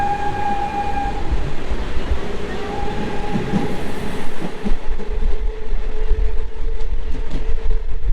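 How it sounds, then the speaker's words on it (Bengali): A passenger MEMU train runs on the line to Maharajpur station in Jharkhand, heard from inside with a loud, steady rumble, rattling wheels and faint metallic whines over the whole stretch. "এটা হচ্ছে একটা প্যাসেঞ্জার মেমু ট্রেন"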